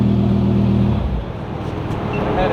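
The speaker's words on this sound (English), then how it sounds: "All the sexy cars are coming in." Sports cars arriving at a car show, a close engine idling with a low steady hum that drops off after a second, then a louder rush of revving and nearby traffic noise.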